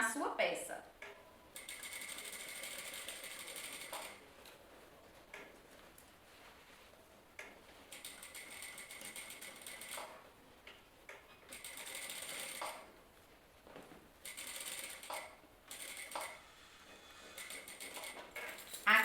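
A sewing machine stitching bias binding onto a corset runs in soft, faint bursts of rapid ticking and whirring, starting and stopping, with quiet handling sounds between the runs.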